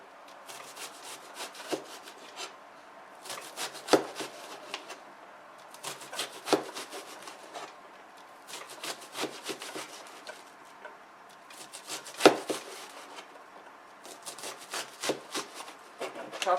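A knife taps and scrapes repeatedly as onions are chopped on a wooden board, with irregular bursts of quick cuts separated by short pauses, near but fairly soft.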